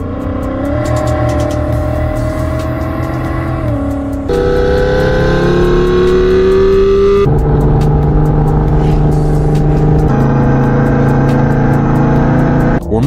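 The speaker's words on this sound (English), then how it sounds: "you can make your car sound like any supercar you want" Synthetic supercar engine sounds played through an aftermarket car sound device, loud and unbroken, shifting abruptly between several tones with rising revving pitch and no voices.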